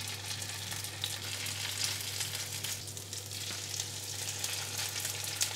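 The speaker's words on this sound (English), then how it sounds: "I will be adding some olive oil into a frying pan" Broccoli and cauliflower cheese mixture frying in olive oil in a pan over medium-high heat, a continuous hissing sizzle with a low steady hum beneath it.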